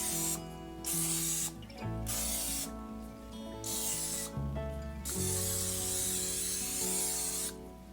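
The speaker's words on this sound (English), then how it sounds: "And spray it with cooking spray." Several hissing bursts of cooking spray into a baking dish, each a second or two long with short pauses between, close and fairly loud.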